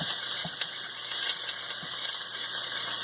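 Onions fry in hot oil for a chicken pot pie chowder, giving a steady, close sizzle with faint clicks and light stirring sounds and no talking over it.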